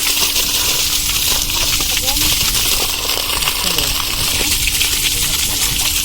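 Muddy water gushing out of a farm water pump in a maize field, a loud steady hissing rush that runs on continuously.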